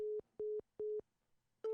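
A telephone busy signal sounds as a clean, close tone in evenly spaced beeps, three full pulses and the start of a fourth, with silent gaps between them and no talking.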